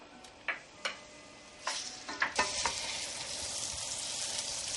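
Peeled shrimp dropped into two tablespoons of melted butter in a pan: a few sharp taps, then a sizzle that starts abruptly and settles into a steady, close frying hiss.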